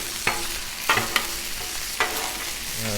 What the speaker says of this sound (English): Now let's give these sausage patties a flip.